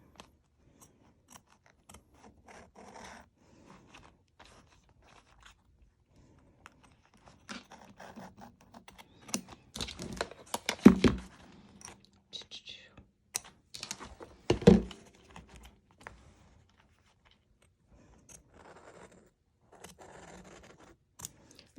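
Scissors snip through stabilizer on a zipper bag in a quiet room, a scatter of soft cuts and scrapes with two louder crunching snips near the middle and faint clicks between them.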